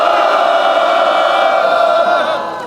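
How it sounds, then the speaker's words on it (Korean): Justice Party members raise a loud, sustained crowd shout at an indoor rally for passing the fast-track bills, a dense wall of voices holding steady for nearly three seconds before easing slightly at the end. "당원 여러분들의 함성으로"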